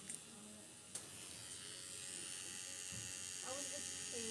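A tattoo machine needle buzzes in a steady, faint drone while shading on skin, with a couple of light clicks near the start.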